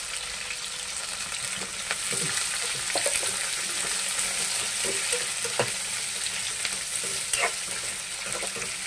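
Onions sizzle and hiss in a pan of frying mushrooms with curry leaves, a steady close crackle with occasional stirring scrapes and no talking.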